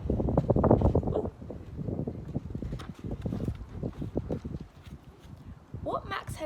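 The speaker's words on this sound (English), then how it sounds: "It's pretty windy today." Gusty outdoor wind buffets the microphone in low rumbling bursts, with a voice speaking faintly beneath it.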